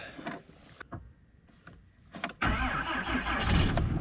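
Pickup truck engine starting in sub-zero cold, around -6°F: a few faint clicks and cranking attempts, then the engine catches abruptly and settles into a loud, rough running roar, heard up close.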